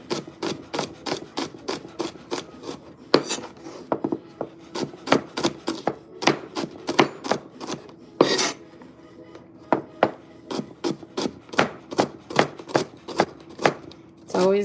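Vegetables being chopped on a board during home meal prep, a brisk run of sharp knife knocks at an uneven, quick rhythm, close and crisp, with a few louder thuds.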